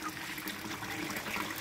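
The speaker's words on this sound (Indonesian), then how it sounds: "Sehingga air terjun ini berfungsi untuk menambah oksigen yang ada di kolam" An artificial waterfall fed by an Atman 107 pump in a gourami and tilapia fish pond gives a steady, close rush and splash of falling water without a break.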